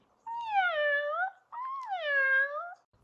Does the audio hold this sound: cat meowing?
yes